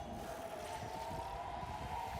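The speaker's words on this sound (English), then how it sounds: "We hear the air raid sirens going off." Air raid sirens wailing in Israel, a steady distant tone held throughout beneath low rumbling background noise, faint and continuous with no voices.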